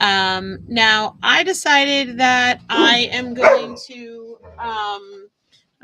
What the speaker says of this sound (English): apologize for the dogs in the background.